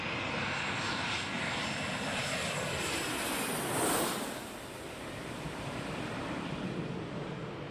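A fixed-wing airplane makes a very low landing approach at Skiathos, its loud engine roar swelling to a peak midway and then easing into a steady rumble, with wind and surf beneath it.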